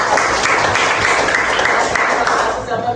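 Dense, steady applause from a classroom group in Indonesia, loud and continuous for about three seconds before easing slightly at the end.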